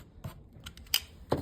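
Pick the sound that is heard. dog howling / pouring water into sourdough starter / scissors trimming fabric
scissors trimming fabric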